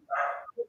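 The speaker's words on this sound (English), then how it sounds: "So my dog is totally going to start barking now." A pet dog barks at home, two short muffled barks, the first longer and the second brief, fairly quiet and heard alone.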